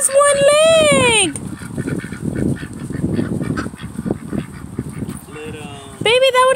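Ducks at a riverwalk honking and quacking loudly nearby at the start and end, with a child and an adult talking through the middle.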